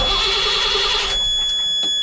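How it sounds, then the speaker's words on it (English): An old, cold marine diesel engine turns over on the starter with its fuel shut off, a loud steady cranking drone that drops away partway through, leaving a quieter hum with a few soft knocks. "I'm going to hold the shut-off valve to the engine off so it can't start, and I'm just going to turn it over"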